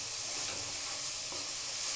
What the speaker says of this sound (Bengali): দিয়ে আমি মশলাটা খুব ভালো করে কষিয়ে নেব।